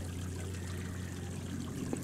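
Hot spring water at a constant 140 degrees flows and trickles in a soft, continuous, low-level stream.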